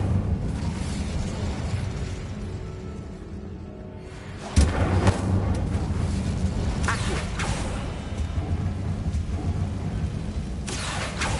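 The Incendio fire spell in Hogwarts Legacy lands as a sudden sharp burst partway through, followed by crackling whooshes and further bursts over a busy game background.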